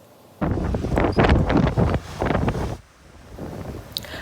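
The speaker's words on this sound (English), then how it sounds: "The wind sent waves crashing on the shore on Vancouver Island." Strong gusts buffet the microphone in heavy bursts, with waves crashing on the Vancouver Island shore behind them, easing briefly before another gust picks up.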